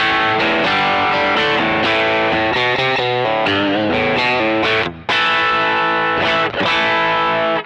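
Electric guitar through a Digitech Bad Monkey overdrive pedal with all controls at noon: warm, mid-focused crunchy chords and single notes ring out loud and close, with only a brief break near the end.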